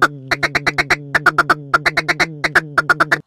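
A duck call is blown while a hand opens and closes over the barrel, producing a loud, rhythmic series of nasal quacks in quick bursts of four to six notes. The tone shifts as the hand moves, and no voices are heard.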